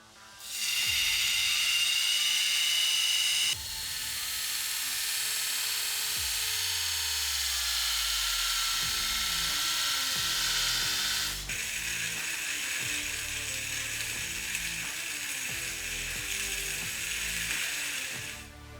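A grinder cutting a forged Damascus santoku chef knife blade to its marked profile lines, a loud continuous high whine with a couple of pitch shifts and the motor spinning down partway through, alone without talk.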